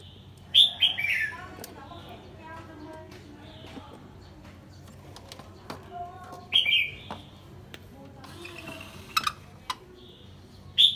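A caged red-whiskered bulbul gives bright, sharp chirps and short whistled calls in several separate bursts, close and clear over a quiet background, with occasional soft talk.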